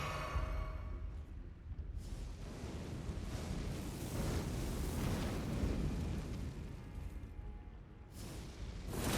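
A fire spell in the video game Elden Ring: Shadow of the Erdtree erupts in a sustained roaring burst of flame after a brief quiet start, rumbling loudly for several seconds before easing, then flaring again at the end.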